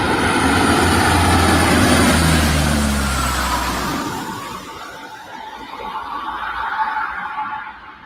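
A big airplane coming in to land roars loudly overhead, a broad sustained engine and rushing-air noise with a descending low tone that gradually fades and thins as it passes, with faint snickering laughter mixed in.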